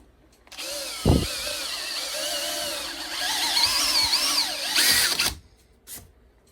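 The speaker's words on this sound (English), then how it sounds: "let's assume you do not have a coping saw or a hole saw, but you have a drill" An electric drill whines steadily for several seconds, its pitch rising and wavering as it bites into material, then cuts off abruptly.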